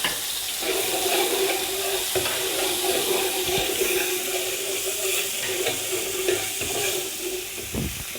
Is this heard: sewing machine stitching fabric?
no